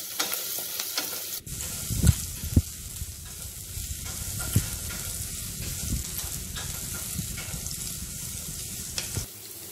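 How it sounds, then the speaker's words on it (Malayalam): Ginger and garlic sautéing in a pan over low heat while cooking egg bonda, a steady frying sizzle with occasional stirring scrapes and clicks, close and continuous with no talking. "ചെറിയ തീ ഒന്ന് ഇഞ്ചിയും വെളുത്തുള്ളിയും നന്നായി വഴറ്റിയെടുക്കുക."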